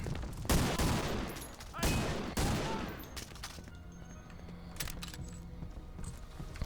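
Gunfire in Medal of Honor: Allied Assault: a few loud, sharp shots with echoing tails crack out at irregular intervals, followed by quieter clicks and thuds.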